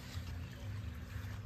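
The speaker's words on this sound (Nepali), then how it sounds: "हेर्नु 3 इन्ची मोटरबाट कति पानी हुँदैछ।" Water flows from a 3-inch irrigation pump motor into a maize field: a faint, steady low rumble carries an even, continuous gush of water with no breaks.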